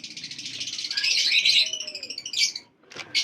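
Pigeons being let out of their loft fill the air with a busy stream of high chirps and twittering calls, close and fairly loud, breaking off briefly near the end before resuming.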